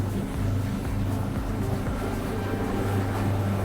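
A tugboat's diesel engine runs near maximum RPM at sea at about 10 knots, a loud, steady low-pitched drone with a constant throbbing hum and no talk over it.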